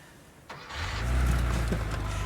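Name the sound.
Porsche engine starting with key turn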